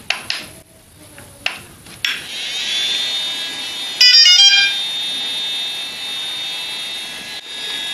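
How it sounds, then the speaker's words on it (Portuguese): A DJI Phantom 3 Advanced drone powering on, with a few sharp startup beeps and clicks followed by a steady high-pitched electronic whine and a brief burst of tones partway through, heard close with no talking. "Nós vamos ligar agora o drone."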